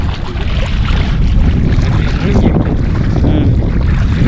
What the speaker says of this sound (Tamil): இது பார்த்தீங்கன்னா மினி போட்